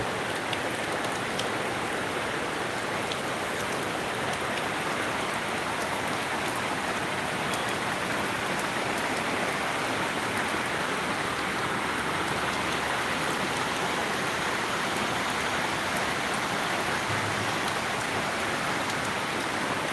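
Heavy rain pours down steadily, a dense, unbroken hiss of drops hitting surfaces close by, with no voices.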